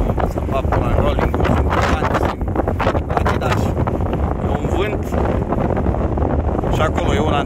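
Strong, constant wind buffeting a microphone on a mountain peak over 2,500 metres in Romania, with a heavy low rumble, loud and unbroken, and faint voices drifting through.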